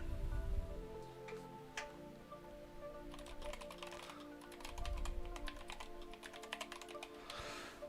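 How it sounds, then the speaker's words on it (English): A cat's tail whipping across a computer keyboard, giving a scatter of clattering key clicks and taps over a steady background hum, fairly close and moderately loud. "My cat literally just whipped its tail at my keyboard and messed this up."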